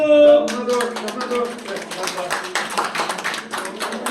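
Brisk applause from a group at an environmental organization's general assembly awards, many hands clapping densely and continuously after a short spoken line at the start.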